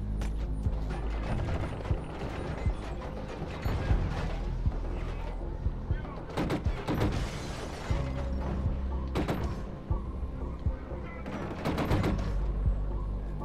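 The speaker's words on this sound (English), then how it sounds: "I'm shooting at the spiders more than the guys" Fast, dense gunfire in the video game Killzone Shadow Fall: rapid bursts of automatic shots and sharp mechanical clatter fill the scene almost without pause, with occasional talk over the top.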